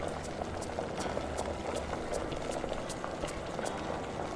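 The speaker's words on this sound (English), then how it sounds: "I feel like it's boiling enough." Hot pot bubbling in the video game Hot Pot for One, a steady rolling boil with scattered pops and crackles throughout, moderately loud and uninterrupted.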